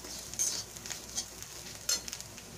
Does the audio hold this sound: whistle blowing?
no